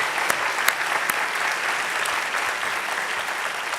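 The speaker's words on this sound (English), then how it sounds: "Let's give Stella another round of applause." An audience claps steadily for a Holocaust survivor at a high school remembrance event, a dense, continuous round of applause with a few sharper individual claps standing out.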